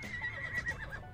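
A horse in the video game Ark: Crystal Isles gives a short, close neigh, a quick whinny over a low, steady background rumble.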